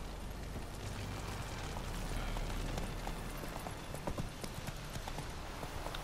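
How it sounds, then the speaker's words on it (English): Horse hooves clip-clop steadily through a fantasy landscape in The Witcher 3, a continuous rhythmic gait of moderate loudness heard close, with no talking over it. "This is my horse."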